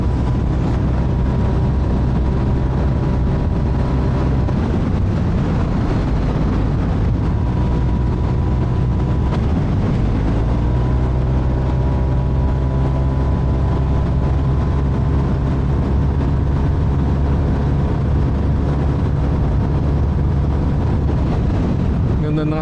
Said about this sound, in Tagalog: Ganda ng RPM ngayon ng motor.